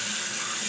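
A kitchen tap runs hot water in a steady, loud hiss, close and unbroken for under a second.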